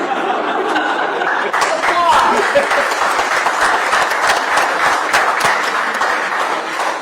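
Steady, dense applause from an audience at a governor's economic development announcement, with some laughter mixed in under the clapping.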